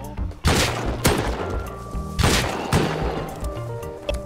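Gunfire in the survival game Rust: several loud, sharp shots spaced about half a second to a second apart, each with a booming tail, over a busy game mix with faint voices in the background.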